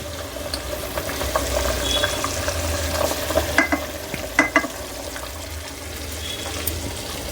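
Lentils go into frying masala for an egg dal curry, a steady loud sizzle with wet stirring and scraping in the pan, plus a few sharper clinks of the spoon against the pot.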